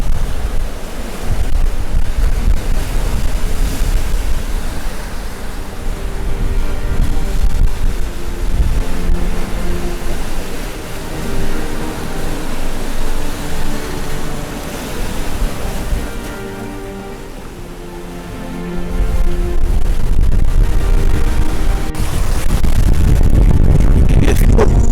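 Loud waves and gusting wind roar continuously around a sailing boat on a chilly day at sea, with heavy wind buffeting on the microphone and swells surging past.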